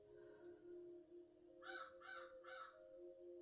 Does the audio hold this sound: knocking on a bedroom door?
no